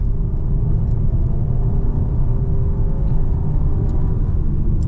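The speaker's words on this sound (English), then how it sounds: "Full throttle, so that's just upshifted by itself." A 2025 Skoda Superb 195 TSI pulling hard at full throttle, heard from the cabin as a loud, steady low engine drone and road rumble that holds almost unchanged, with no clear break for a gearshift and no talking.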